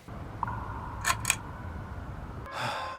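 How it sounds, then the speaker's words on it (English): Opening sound effect of an album, with a steady electronic beep tone and a few short bright clicks, ending in a brief burst of bright noise, heard alone. "it's not even quite a musical theme, it's more of a sound effect theme"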